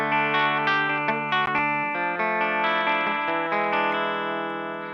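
A PRS Private Stock Custom 24 seven-string electric guitar on its bridge pickup plays a quick run of distorted notes and chords through effects with a touch of chorus and reverb, then lets the last chord ring and fade, with no talk.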